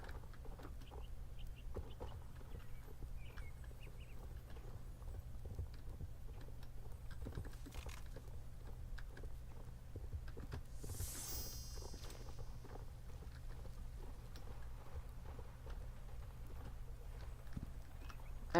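Horse hooves clip-clop at a steady walking rhythm in the online riding game Star Stable Online, quiet and continuous over a low background hum, with faint clicks like keyboard typing scattered throughout.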